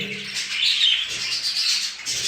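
Pet budgerigars chirp and chatter in a steady, busy stream of high, scratchy twittering, several birds close by with overlapping calls and no pauses.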